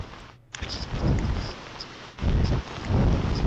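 Hurricane Matthew's violent storm noise coming through a webcam feed, a steady roar of wind and rain with surging gusts that swell loudly and drop briefly, no voices present.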